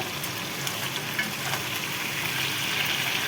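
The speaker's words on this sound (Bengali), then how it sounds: "আর এদিকে যখন কাটাটা ভাজা হচ্ছে" Fish pieces fry in a pan with a loud, continuous close-up sizzle and crackle that stays even throughout, with no talking.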